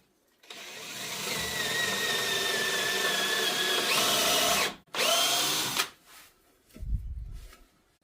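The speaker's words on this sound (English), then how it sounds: "I can drill through here before the tread goes in" A power drill bores through a wooden staircase stringer in a loud, steady whine for about four seconds, stops briefly, runs again, then dies away, with a low knock after.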